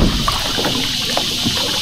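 Water trickles and sloshes into a small boat near Coron, Palawan, a steady wash of liquid noise with a few faint knocks and splashes, loud and close, with no talking.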